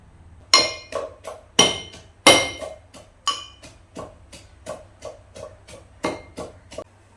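A pestle pounds ingredients for crispy pakoda in a mortar, a series of sharp, irregular thuds with ringing clinks, some hits heavy and others lighter, close and alone.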